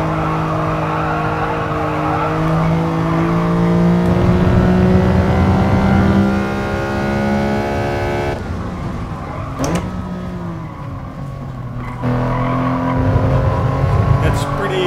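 A car engine in Gran Turismo Sport climbs toward its 10,000 RPM limit, a loud rising whine with stepped gear changes and some tire squeal, with a voice talking over it.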